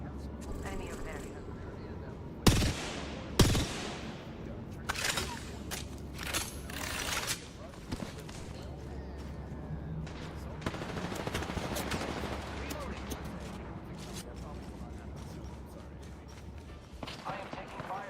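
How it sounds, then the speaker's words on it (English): Bursts of video game gunfire, with sharp shots early and a steady rattle of weapons fire, play beneath an ongoing voice and game sounds during a multiplayer shooter match. "I am taking fire, friends."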